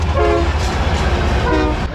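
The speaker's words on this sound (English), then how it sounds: "record this because the train's coming" A loud train rumbles past close by in New Mexico, with a steady low roar and sustained horn-like tones sounding twice.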